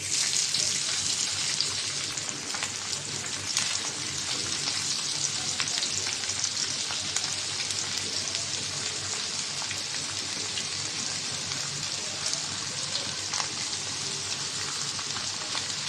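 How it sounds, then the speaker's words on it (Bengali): Small mixed local fish frying in hot oil, a dense continuous sizzle with crackling spatter, steady and close throughout. "মাছটা মেখে নিয়েছি তেল গরম হয়ে গেছে দিয়ে দিলাম"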